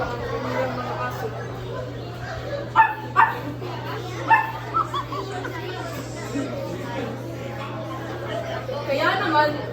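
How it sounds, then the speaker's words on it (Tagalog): Dogs bark and yip in short bursts at mid distance, mixed with whimpers over a continuous hum and voices in the background. "pinakaluan ni senyora ang kanilang mga aso"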